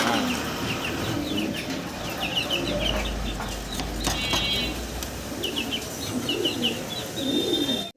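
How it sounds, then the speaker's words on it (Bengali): A pair of Damascene pigeons cooing nearby, repeated soft throaty coos among other birds and background chatter of a pigeon market. "খুব চমৎকার এক জোড়া দামাসিন কবুতর"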